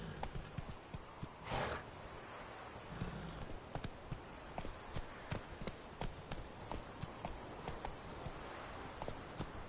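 Geralt's horse Roach gallops in The Witcher 3, a steady run of crisp clip-clop hoofbeats with a whinny early on, moderately close over a low ambient bed of game sound.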